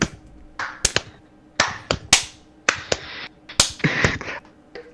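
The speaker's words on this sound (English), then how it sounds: "I'm still doing a slow, sarcastic clap exactly once a day at exactly 8:25." Slow, deliberate hand claps ring out one at a time in a quiet room, about a dozen sharp smacks spaced irregularly across several seconds, some with a brief echo.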